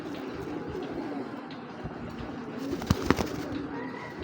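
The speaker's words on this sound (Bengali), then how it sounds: "এটা হলো মাদি কবুতরটা" A female Kaldum pigeon coos softly and low, nearby but faint, over a quiet hum, with a couple of sharper bird sounds near the middle.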